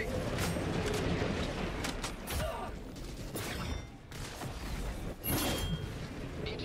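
Video game gun reloading: busy mechanical clicks and ratcheting clacks mixed with thumps and distant gunfire, dense and loud throughout, with brief shouting voices in the background.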